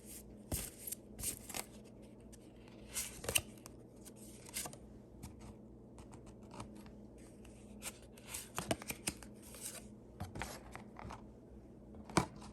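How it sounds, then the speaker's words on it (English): Tarot cards drawn from a deck and handled, giving soft scattered slides and taps close by over a low background hum, with no voices. "I'm going to actually draw 2 cards for the next sector"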